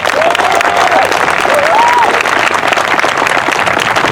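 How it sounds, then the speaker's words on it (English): A crowd at a George Floyd justice rally in Monterey, California breaks into loud, sustained applause and clapping, with a voice or cheer rising briefly through it. "So give you a round of applause, everybody."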